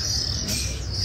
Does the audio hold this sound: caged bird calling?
yes